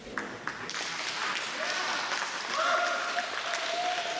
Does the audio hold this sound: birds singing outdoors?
no